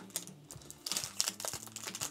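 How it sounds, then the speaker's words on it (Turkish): Tape is peeled and pried open on a Tarmac Works model car package, heard as close, irregular clicks, crackles and crinkles of plastic and packaging over about two seconds, with no talking. "Buradan bu şekilde bantlarını açıyoruz."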